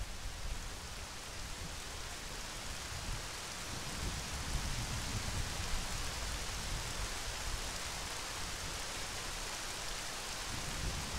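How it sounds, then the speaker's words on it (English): Steady heavy rain hisses without a break through a rainstorm in the video game Majora's Mask, with low rumbles of thunder rolling underneath and no voices. "In the middle of a rainstorm."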